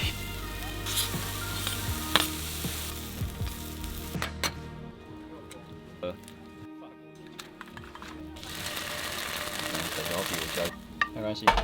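A mushroom omelet made with special salt sizzles in a pan in a camper van in Taiwan, a steady close frying hiss with a few scrapes and clicks and a quieter dip partway through.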